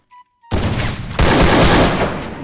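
Dense bursts of gunfire from a mobile shooter video game, loud and sustained after a brief beep, with a second louder volley joining midway and continuing to the end.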